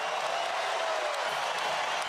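A basketball arena crowd at an NBA game roars with cheering and applause after a spectacular finish, a dense, loud, steady wall of noise that cuts off abruptly.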